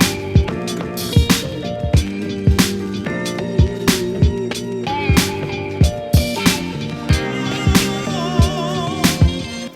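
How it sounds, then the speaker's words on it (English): A looped music sample run through an EP34 tape echo delay, with punchy repeating drum hits in a steady beat under sustained, wavering melodic tones and echoing tails, with no talking. "I added this EP34 tape echo on the sample."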